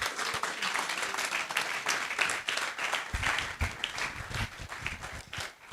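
Applause from a summit audience after a keynote talk fills the space with steady, dense clapping at moderate volume, continuous throughout with no clear speech over it.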